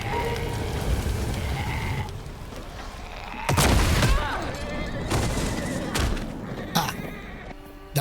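An improvised RPG explosion in The Walking Dead: The Ones Who Live goes off midway as a loud booming burst, with horse whinnies and scattered gunfire-like cracks around it and voices speaking throughout.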